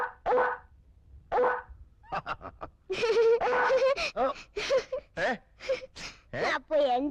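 A human voice imitating a dog barking, a series of short bark-like yelps after some talking, with another person speaking in between, close and fairly loud in an indoor scene.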